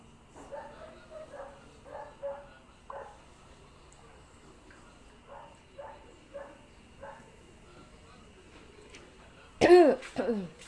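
A series of short, muffled coughs repeats in bursts, then one sharper, louder cough near the end, in an otherwise quiet room.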